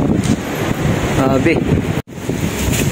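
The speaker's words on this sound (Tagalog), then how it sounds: "Lakas pa ng hangin, napakalamig." Strong, very cold wind outdoors during heavy rain: a roaring rush of broadband gusts buffeting the microphone, with a brief voice underneath.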